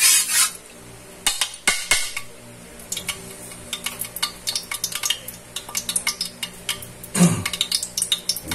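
Cooking oil is heated in a pan for sautéing as a metal utensil clatters and scrapes against it in sharp, irregular clanks, with a faint sizzle beneath.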